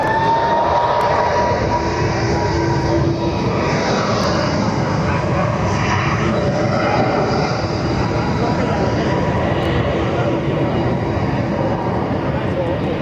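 A JetBlue airliner departs Barcelona airport with a loud, steady, broad jet roar that holds for the whole stretch, while a voice talks over it.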